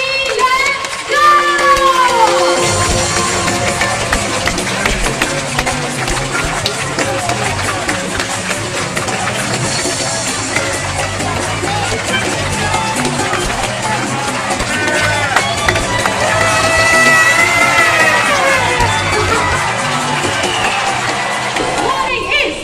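A crowd cheers and whoops steadily at a bird show at Jurong Bird Park, a broad continuous roar with swelling peaks that carries through the whole stretch, with voices mixed in.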